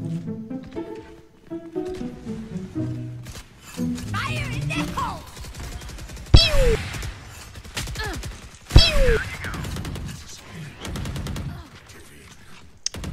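Gunshots in the tactical shooter Valorant, with two sharp loud shots standing out over music, game sounds and a voice talking.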